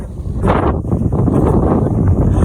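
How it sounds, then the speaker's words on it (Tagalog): Strong wind in Tagaytay, Philippines, buffets the microphone with loud, gusty roaring bursts throughout. "Lakas ng hangin."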